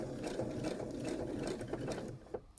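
Steady close whirring chatter of a sewing machine outlining a quilt block, running continuously before easing off into a few last clicks.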